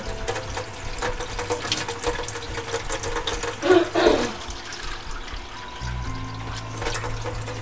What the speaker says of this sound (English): I'm going to fill up these other two with the